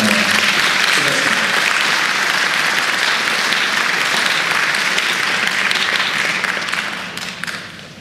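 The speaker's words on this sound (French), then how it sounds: "Merci de l'applaudir." Sustained audience applause at a French colloquium as a speaker is welcomed to the podium, a loud, full roomful of clapping holding steady before tapering off near the end.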